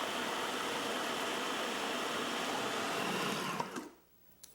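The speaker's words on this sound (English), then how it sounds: "So let's get this into the blender and get this dressing finished." A blender whirs steadily at full speed for nearly four seconds while mixing a dill and yogurt dressing, then cuts off abruptly, leaving only faint kitchen clatter.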